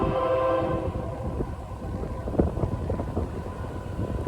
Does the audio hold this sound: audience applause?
no